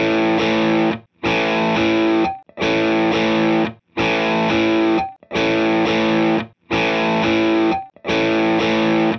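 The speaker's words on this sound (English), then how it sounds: "I'm going to play you the first power chord that I hit in this little riff" Distorted electric guitar power chord through an amp, struck seven times in even rhythm, each chord ringing about a second before a brief gap, loud and alone.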